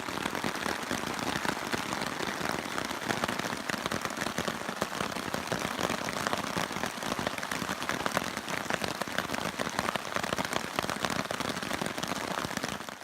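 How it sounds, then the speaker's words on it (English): Heavy rain pours steadily on the Appalachian Trail in Virginia, a dense continuous hiss of drops pattering on surfaces with no pauses. "It's been pouring for about an hour. Probably gonna rain like this all night."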